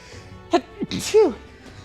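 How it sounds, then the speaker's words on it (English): A single close sneeze, a quick sharp intake then an explosive burst, in an otherwise quiet room. "Sorry, I'm gonna sneeze."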